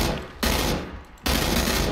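Bursts of automatic rifle fire from an M16 in the PUBG video game, two loud sustained volleys separated by a brief lull, with no talk over them.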